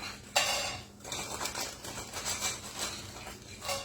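Soy curls tossed into a hot frying pan, a sharp clattering thump followed by soft patter and light rattling of pieces settling and crackling close by, no voices.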